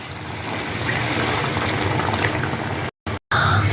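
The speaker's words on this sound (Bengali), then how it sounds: "এখন আমি পরিমাণ মতো জল দিয়ে দেবো।" Water pours steadily into a pot of chicken rajma curry, a loud, close, continuous rushing splash that breaks off briefly twice near the end before resuming.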